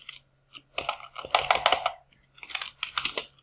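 Someone types on a computer keyboard to run a Python file in PowerShell: short clusters of crisp key clicks, a few taps, then rapid bursts with brief pauses, close and clear with no talking.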